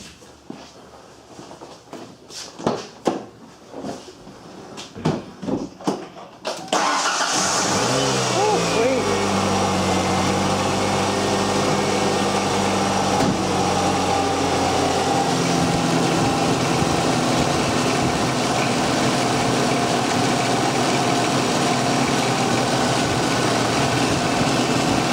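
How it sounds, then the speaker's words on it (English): A Ford Ranger after an alternator replacement: a series of clicks and rattles, then the engine cranks and catches about a third of the way in and settles into a loud, steady idle that runs to the end. "I guess this is the moment of truth of where we crank this thing up"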